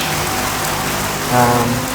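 Steady rain hissing throughout a race in the F1 Challenge racing game, with a low engine drone underneath and a slight swell in intensity near the end.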